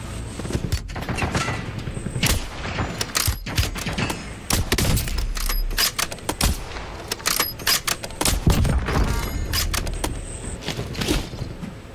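Rapid bursts of video game gunfire crackle in dense, overlapping volleys, steady and loud throughout with short gaps between clusters of shots, set against a constant low rumble of battle.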